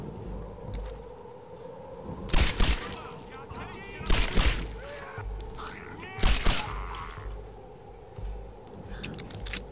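Pistol gunshots in the video game Tomb Raider: three sharp bursts of paired shots spaced a couple of seconds apart over game ambience, with someone talking between them.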